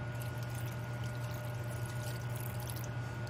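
A small amount of water pours steadily into a pan over vinegar and oil for a tuna steak dish, a soft continuous trickle over a low hum with no talking.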